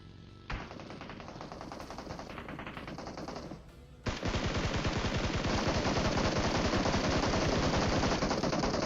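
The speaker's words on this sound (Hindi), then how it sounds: "ये सोचकर मैंने स्कारल की सभी गोलियां भटका दी भाई" Scar-L assault rifle fire in the video game PUBG rattles in rapid, sustained automatic bursts, a shorter burst first, then a brief lull and a longer continuous stream, loud and close.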